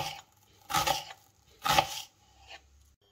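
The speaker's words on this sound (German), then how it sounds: "Wir halbieren einmal die Zwiebel." A knife cuts an onion into coarse pieces on a board for German fried potatoes, giving three separate close chopping strokes about a second apart, each with a short crunchy rasp, with no talk.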